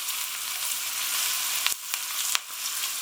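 Chard stalks fry in a pan with a loud, steady hiss, broken by a few sharp crackles and pops, close up and alone without talk.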